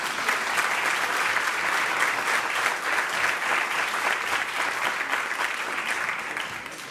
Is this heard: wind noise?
no